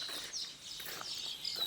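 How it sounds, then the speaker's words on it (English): Birds chirping at a rural college campus near a farmhouse in Chaparda, Junagadh, Gujarat, around 6:30 in the evening; faint, scattered high tweets over quiet open-air ambience, with no talking. "Birds are chirping."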